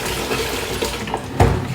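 Water runs steadily over natural hair being rinsed during a wash, a close, continuous splashing gush with a brief louder slosh near the end and no talking.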